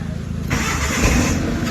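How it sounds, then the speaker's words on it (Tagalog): A Mitsubishi Lancer's engine cold-starts: after a low idle-like rumble a sudden loud catch brings a rougher, fuller running sound that settles into a steady idle, recorded up close in a garage. "Yan, nagkaroon na siya ng cold start."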